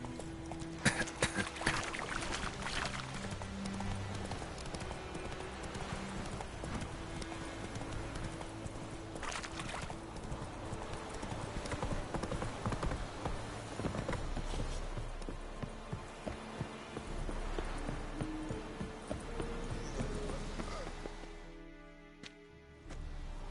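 Horse hooves clip-clop at a steady galloping pace in the video game Witcher 3 Wild Hunt, the rhythmic hoofbeats running throughout beneath game ambience, with an occasional whinny.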